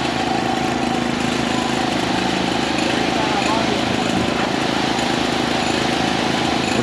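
A Putzmeister 38-5 concrete pump parked in a back lane runs its engine at a steady, loud drone, with a faint rhythmic knock from the pumping strokes. People talk over the noise.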